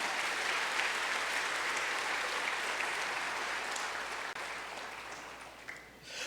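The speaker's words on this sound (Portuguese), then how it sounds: "dê um aplauso bem forte ao Senhor Jesus" A church congregation applauds loudly, with sustained, dense clapping from a large crowd that fills the space before tapering off briefly near the end.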